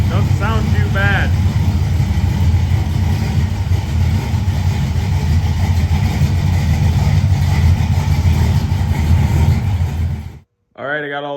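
A Pontiac Firebird's newly fitted 305 V8 engine idles steadily and loud for about ten seconds, with brief voices at the start and a person speaking just after it cuts off.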